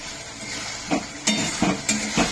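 Spices sautéing for a mutton curry, a soft sizzle broken by four quick scraping strokes of a spoon against the pan in an uneven rhythm, close and clear with no talking.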